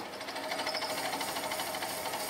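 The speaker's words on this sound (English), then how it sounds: "Now, I'm just plunge cutting with that half inch slot drill and enlarging that hole to 1/2 inch." A milling machine plunge-cuts brass with a half-inch slot drill, giving a steady, fine rhythmic chatter and hum that holds evenly throughout, with no talking.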